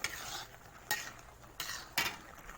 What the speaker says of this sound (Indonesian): masukkan ke dalam kuali. Terus diaduk sampai kira-kira sudah separuh matang nasinya.